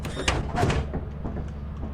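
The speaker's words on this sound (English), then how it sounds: "This is open the door. This is close the door." In the video game Lethal Company, a ship door slides open and then shut, giving two quick mechanical swishes with a clunk, close and fairly loud.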